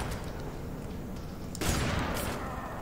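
Gunfire in the F.E.A.R. 3 video game, a muffled background rumble that breaks into a loud, dense burst of shots partway through and keeps rattling to the end.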